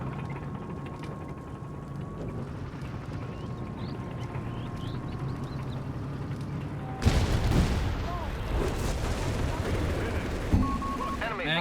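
Propaganda bombs burst in a Company of Heroes 3 match: a steady hum of battle gives way to a sudden loud, broad crash and a dense rumble of blasts and gunfire, with a commentator talking over it.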